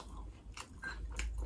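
Someone bites into meat wrapped in a large betel leaf, giving a few close, crisp crunching bites followed by soft chewing.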